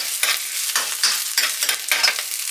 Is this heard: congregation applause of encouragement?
no